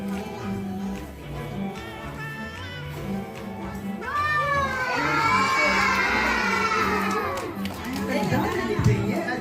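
A crowd of preschool children shouting and cheering together at a school magic show, a loud sustained swell of high voices rising midway and carrying on, with an adult performer talking over the noise.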